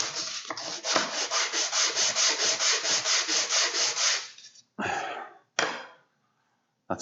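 Sandpaper rubbed on a wooden goal wall from a model football game, a close, loud run of quick rhythmic back-and-forth strokes for about four seconds, then two short separate passes and silence.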